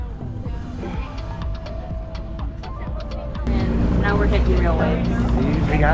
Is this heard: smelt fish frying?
no